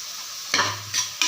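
Ripe tomatoes stirred and sautéed in a pan: a soft background sizzle broken by a few short scraping strokes of a spoon, close and quiet, with no voices.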